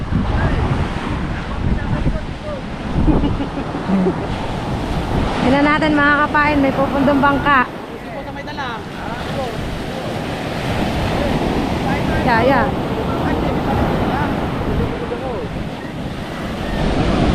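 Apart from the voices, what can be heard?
ocean waves breaking on shore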